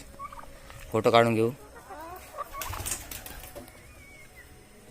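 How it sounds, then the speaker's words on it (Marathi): Chickens inside a coop give a loud, close burst of fowl calls lasting about half a second, then quieter scattered bird sounds continue beneath a person talking. "हे बघा कसल्या कोंबड्या आहेत"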